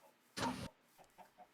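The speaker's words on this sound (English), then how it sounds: "I heard the chicken go plop." Minecraft chicken hit by a thrown egg, a short, fairly loud noisy burst of impact followed by a few faint, soft clucks, with no speech.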